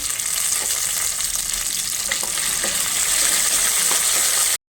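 Mustard seeds and curry leaves sizzle steadily in hot oil for a sago kichdi tempering, with a continuous frying hiss and scattered small pops, close and fairly loud, with no talking.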